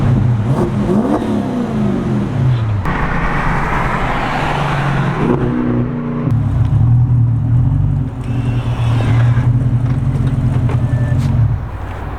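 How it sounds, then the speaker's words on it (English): A Toyota Sequoia cruising on the freeway, steady loud engine drone and road rumble from inside the cabin, with the pitch rising as it accelerates and shifting through gears. "I'm gonna try and drive the Sequoia and not run into people on the freeway."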